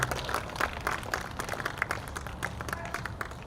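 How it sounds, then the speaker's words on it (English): A crowd applauds at the ribbon cutting ceremony for the Animal Service Center of the Mesilla Valley, dense clapping from many hands, close and continuous for the whole stretch. "So another round of applause for this wonderful facility and then our wonderful public art."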